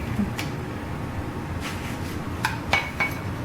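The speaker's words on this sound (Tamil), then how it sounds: "இப்போ அதை ஒரு பவுலில் போட்டுக்கிறேன்." Light clinks and taps of fresh vegetables dropping into a bowl for pickle, a few soft knocks against a steady background hiss.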